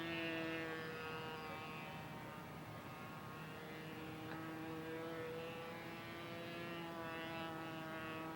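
The engine of a radio-controlled model airplane drones continuously in flight, a steady buzzing whine with strong tonal harmonics that holds at a fairly even level throughout.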